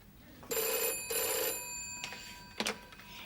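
An old-style telephone bell rings indoors in a house, two long double rings followed by shorter clanging bursts, loud and alone without talk.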